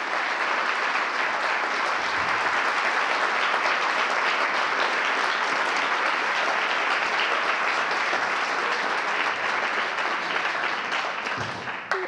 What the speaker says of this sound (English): Please, before we start, a round of applause to Jean Amorim, he's here.